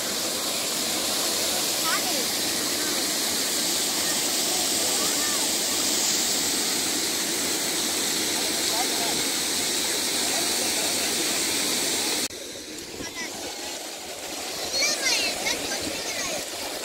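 Water rushes steadily at Thaiyur lake, a loud, broad roar like a spillway or overflow that continues unbroken, dropping somewhat near the end as faint voices come through.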